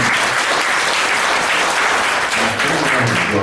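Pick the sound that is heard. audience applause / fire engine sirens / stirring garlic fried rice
audience applause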